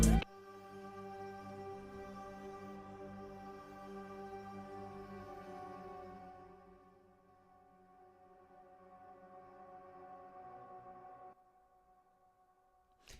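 A sustained, slightly dissonant synth chord in a country-style beat swells in and out, rubbing as it hangs, then fades and cuts off near the end. No drums or voices are heard.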